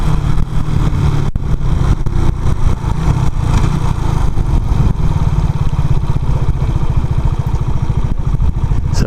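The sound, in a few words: motorcycle engine revving while riding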